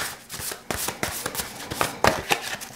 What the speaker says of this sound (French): On va tirer une dernière carte du printemps